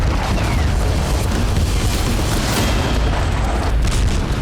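A continuous heavy, rumbling boom from an explosion in the industrial zone of Kazan, Russia, during a Ukrainian attack, dense and loud throughout with no pauses.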